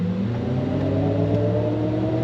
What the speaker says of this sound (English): Let's go for a little on-throttle drive in the new Optic.